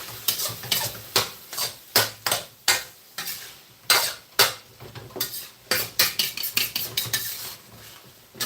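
Chicken and plenty of garlic sizzle in a wok as a metal utensil scrapes and clanks against the pan in quick, rhythmic strokes, loud and close, with a steady frying hiss underneath and no talking.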